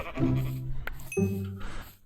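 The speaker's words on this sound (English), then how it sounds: "this sheep right here obviously needs to go" A sheep in a survival video game bleats twice in close succession, each a loud wavering baa, the second slightly higher, with a brief pause between.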